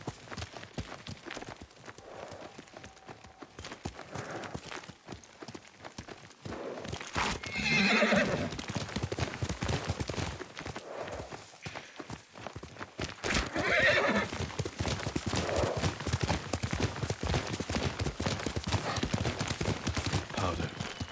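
Horse in the samurai game Ghost of Tsushima, with steady clip-clop hooves and two loud neighs or whinnies standing out over ambient game sound.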